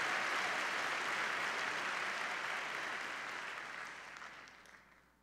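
A church congregation claps hands in praise, a dense, sustained wash of applause filling the room that gradually thins and fades toward the end.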